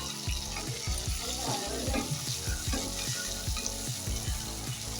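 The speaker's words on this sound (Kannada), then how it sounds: "ಈಗ ಇದಕ್ಕೆ ಕುಟ್ಟಿಟ್ಕೊಂಡಿರೋ ಹಾಗಲಕಾಯಿ ಹಾಕೋತಾ ಇದ್ದೀನಿ. ಮಿಕ್ಸ್ ಮಾಡ್ಕೊಳ್ಳೋಣ ಇದನ್ನು." Bitter gourd being stirred into tomatoes frying in oil in a pan, a steady close sizzle with rhythmic scraping and stirring clicks throughout.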